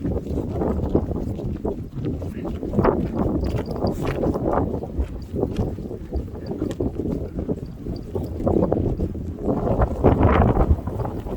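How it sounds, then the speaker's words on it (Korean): Strong wind buffeting the microphone outdoors on a snowy day, a loud, continuous low rumble with gusty surges and no talk. "아따 바람 많이 온다"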